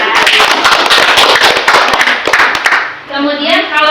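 A crowd claps loudly in a dense burst of applause at a school outreach event in Indonesia, fading out near the end before a voice speaks.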